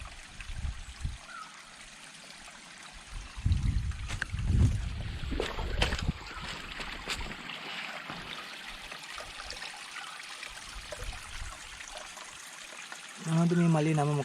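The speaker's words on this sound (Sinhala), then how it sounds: "ඒ වතුර සද්ද." Water flowing in a stream beside the Pekoe Trail between Hanthana and Galaha in Sri Lanka, a soft continuous trickle heard from nearby, with a few louder rustles and a brief sound near the end.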